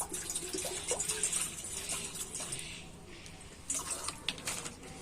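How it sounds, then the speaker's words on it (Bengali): Water is poured out for cooking Maggi noodles in a home kitchen, making a close, steady splashing and trickling that thins in the middle and then swells again. "তো আমরা প্রথমে পরিমাণ মতো জল নিয়ে নেব।"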